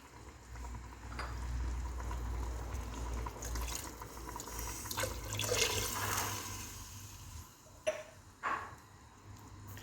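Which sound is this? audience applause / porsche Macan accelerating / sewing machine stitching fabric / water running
water running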